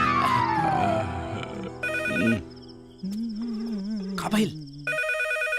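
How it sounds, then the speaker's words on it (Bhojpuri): A landline telephone rings in a home, its electronic bell sounding in repeated bursts between talk and other sounds of a comedy scene. "ई त लैंडलाइन हा।"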